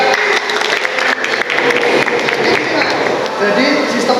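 A group of students applauds in a vocational automotive engineering classroom, a dense and loud patter of clapping that fills the moment, with speech mixed in.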